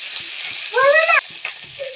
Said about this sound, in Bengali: মশলাগুলো এবার ভালোভাবে কষিয়ে নিচ্ছি, গ্যাসটা একটু কমিয়ে দেব।